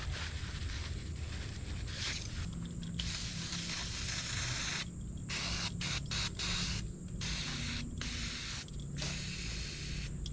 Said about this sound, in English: Take it to the rag, spray it down one more time